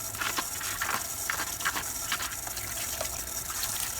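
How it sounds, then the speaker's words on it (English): Tap water runs steadily over corn being rinsed in a kitchen, a continuous close splashing gush with small shifting spatters and no voices. "rinse the corn under running water to remove any impurities"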